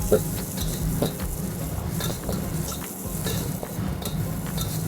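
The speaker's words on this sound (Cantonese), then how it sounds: "嚟咁就爆香呢啲蒜片嗰啲嘢先" Garlic sizzles steadily in oil in a clay pot while a utensil stirs and scrapes against the pot in repeated clacks, close and with no talking.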